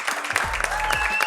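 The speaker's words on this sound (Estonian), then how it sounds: "Teeme talle suure aplausi." Applause breaks out for a contestant on a villa reality show, dense clapping with a voice speaking and a steady music bed running underneath.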